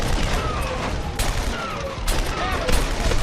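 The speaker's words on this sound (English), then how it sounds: "the rotary cannon." A rotary cannon firing in True Crime: New York City on PS2, a loud sustained burst of rapid gunfire mixed with clanking mechanical sounds and booming hits in the game.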